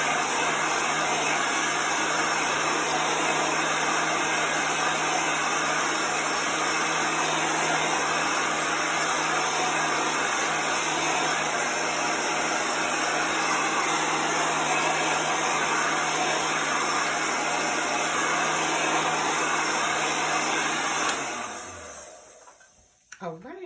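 A hair dryer blows steadily and loudly at close range, drying wet chalk paste on a camper-themed Chalk Couture craft, running without a break before clicking off near the end.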